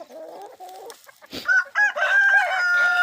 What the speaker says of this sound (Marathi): आपण बाहेर कोंबड्या सोडलेल्या आहेत. पहा कसं मस्त चरतात.